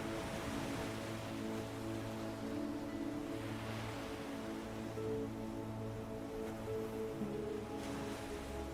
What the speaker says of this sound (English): simply listen to the melody of the ocean